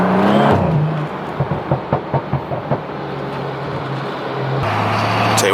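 A BMW F32 with a straight-pipe exhaust and Vibrant resonator idles with a deep drone, then gives a quick run of sharp revs and burbling pops before settling back to a steady rumble. The sound is close and loud, with no talking.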